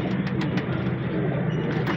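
Pigeons at a bird market in Pakistan coo continuously in a dense, steady murmur, with soft repeated calls layered over a constant background hum.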